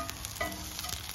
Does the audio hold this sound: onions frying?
yes